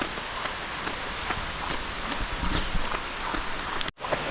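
Heavy rain pours steadily onto surfaces in a village, a dense, loud hiss with scattered drop impacts and faint footsteps, ending in an abrupt cutoff near the end.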